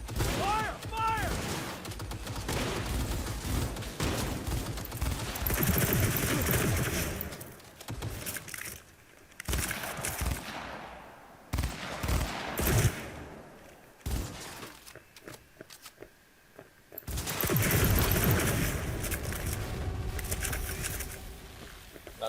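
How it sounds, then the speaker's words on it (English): Dense automatic gunfire fills a shootout in the video game Cyberpunk 2077. Rapid overlapping bursts and crackling impacts drop into a sparser lull midway, then the heavy firing resumes loud, with occasional voices mixed in. "Keep firing, goddammit!"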